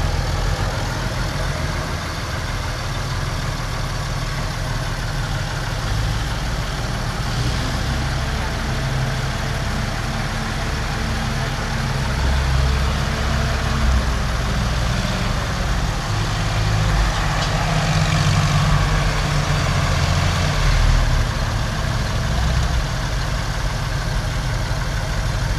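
A 1985 Harold Kemmerer corn sheller's engine runs steadily for about half a minute with an even, low mechanical drone and no clear changes.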